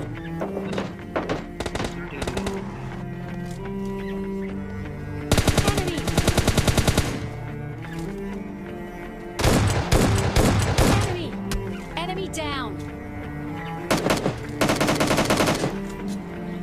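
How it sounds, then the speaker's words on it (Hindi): Automatic gunfire in the mobile battle-royale game PUBG Mobile Lite comes in three loud rapid bursts, separated by quieter single shots and thuds, while someone talks over the action. "तभी मुझे लेफ्ट साइड से कुछ फायर की साउंड आते हैं"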